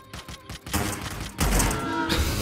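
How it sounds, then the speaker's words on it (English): Gunfire in the video game Hitman: Blood Money as an enemy shoots from a hillside, heard as a dense, clattering volley of rapid shots and thuds, loud and close, surging partway through. "He's shooting you! He's shooting!"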